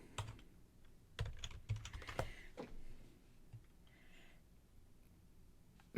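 Typing on a computer keyboard while working in Adobe Premiere: a quick cluster of close, crisp key clicks, then quieter scattered taps over soft room noise.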